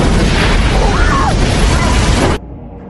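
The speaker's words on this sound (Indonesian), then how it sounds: "Tiba-tiba saat itu truk Chris meledak" A truck explodes in a loud, roaring blast that fills the clip with dense noise, then cuts off abruptly into quiet.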